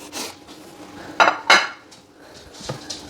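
A spoon scrapes and clinks against a pan as chorizo is mixed into paella, with several distinct knocks and rasping strokes at close range and no talking.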